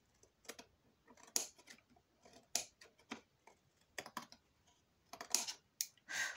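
Scissors snipping through paper and cardstock while assembling an autumn scrapbook album, a series of short, crisp, close cuts in irregular bursts with quiet gaps between them.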